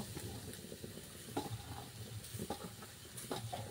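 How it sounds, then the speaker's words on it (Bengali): Dry coconut powder is stirred and scraped around a hot kadai in quick, repeated strokes, with a faint sizzle beneath and no talking. "এরপর আমি নাড়তে থাকবো অনবরত"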